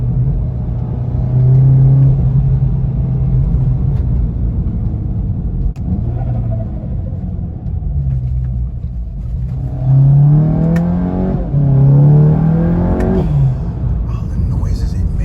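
A tuned 340hp APR GTI engine pulls hard under acceleration from inside the cabin, a steady loud drone climbing through revs with a surge and shift near the end, while someone talks quietly over it.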